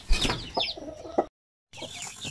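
A hen clucks in short, close bursts, with a brief silent gap before more soft clucking resumes.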